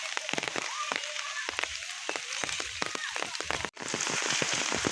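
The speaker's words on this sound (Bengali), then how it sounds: "এখন প্রচুর পরিমাণে বৃষ্টি হচ্ছে" Heavy rain pours steadily outdoors, a dense close hiss of drops striking surfaces, with faint voices of children playing in the water mixed underneath.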